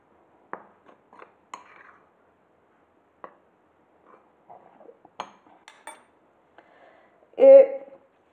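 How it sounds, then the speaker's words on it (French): Egg yolks and sugar being mixed in a bowl for a light Savoy sponge cake, heard as sparse, light clinks and taps of a utensil against the bowl, close and intermittent, ending in a brief louder scrape. "On mélange les jaunes d'œufs et le sucre"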